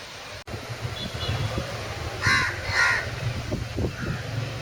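Two loud, harsh crow-like caws ring out close together from birds flying around a park during Cyclone Nivar, over a steady outdoor background hum.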